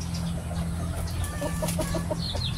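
Maclean bloodline roosters and hens clucking in a farm pen, several birds overlapping in short repeated clucks over a steady low rumble, close and moderately loud.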